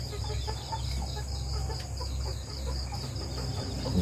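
A black Australorp rooster clucks softly at night among roosting chickens on a rural farm, with short low calls repeating over steady nighttime insect and ambient noise.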